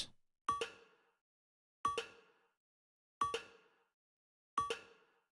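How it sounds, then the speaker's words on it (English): A bell drum groove programmed in Ableton Live 12 plays four evenly spaced metallic clanging hits, each ringing briefly and decaying into silence, clean and close. "Let's rename that bell groove."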